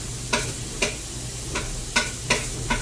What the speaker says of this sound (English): we're just going to let this hamburger get brown while cooking it with the onions and the celery and the garlic